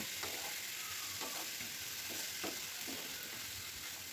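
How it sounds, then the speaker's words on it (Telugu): Chicken pieces coated in garlic paste, green chilies, turmeric, garam masala and salt fry on a low flame in a pan, with a constant soft sizzle broken by several evenly spaced stirring scrapes. "ఇలాగే స్టవ్ని లో ఫ్లేమ్లో పెట్టి ఒక ఐదు నిమిషాలు మనము కలుపుతూ ఫ్రై చేసుకుందాము"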